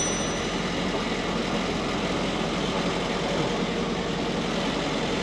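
A ferry boat's engine in Ayutthaya, Thailand, gives a steady, loud drone that rumbles continuously without change, a constant low mechanical roar with broad noise and no voices.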